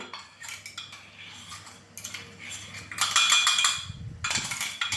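A spoon mixes mustard and fenugreek spice powder into tomato pickle, with repeated metallic scraping and clinking against a bowl in uneven bursts, louder toward the end, close up with no talking.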